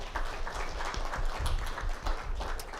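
Audience applause at a career masterclass open day, a steady patter of many hands clapping at moderate level with low rumbling room noise underneath, no voices standing out.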